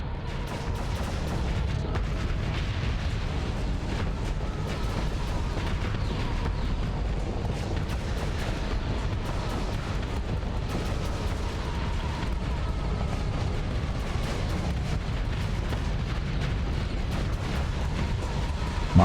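Missile launches in the space combat game Starsector, a sustained barrage of deep booming blasts and rumbling explosions rolling over one another, loud and dense, with faint talk mixed in.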